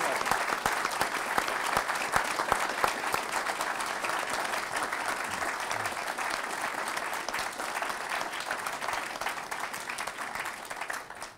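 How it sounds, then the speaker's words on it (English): A hall audience gives a sustained round of applause for Philippine President Marcos Jr. at the Daniel K. Inouye Speaker Series, a steady wash of many hands clapping at even loudness before tapering off at the very end. "please help me give a round of applause"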